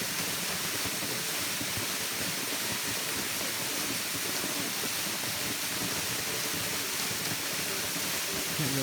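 A jungle waterfall roars as a steady, broadband rush of falling water, constant and enveloping with no breaks, moderately loud and close, with nothing else standing out above it.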